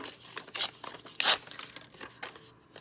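Scissors cutting vintage paper for a spring junk journal: a few crisp snips and crinkles, with one louder tearing swipe midway, close and quiet with no talk.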